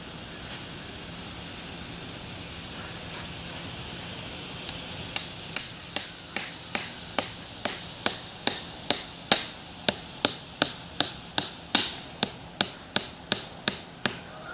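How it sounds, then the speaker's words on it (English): Steady, regular hammer blows drive a tent stake into the ground, starting sparse then settling into a fast, even rhythm of sharp metallic strikes outdoors. "We're going to hammer it in."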